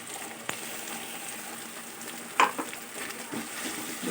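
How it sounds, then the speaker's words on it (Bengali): Grated ginger and tomato paste fry in a pan while being stirred, a steady soft sizzle with occasional scraping clinks of the spoon, close and moderately quiet. "আদাটা সামান্য নাড়াচাড়া করে তাতে একটা টমেটো বাটা দিয়ে দিলাম"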